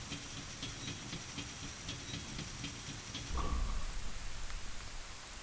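Steady rainfall in The Legend of Zelda: Ocarina of Time: a continuous hiss of rain patter runs throughout, with faint light ticks on top and a brief low rumble swelling near the end.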